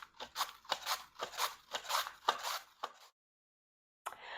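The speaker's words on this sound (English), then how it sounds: "just going to go ahead and slice these onions up" Purple onions sliced on a mandoline with a thin blade, a quick rhythmic series of about eight crisp slicing swipes close up, then a second of silence and one more stroke.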